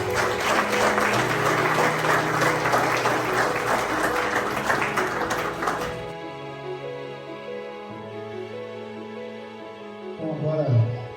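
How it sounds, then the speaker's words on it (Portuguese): Wedding ceremony guests break into loud, dense applause that fills the room for several seconds, then drops away as a voice speaks over quiet background music. "Salve de palmas."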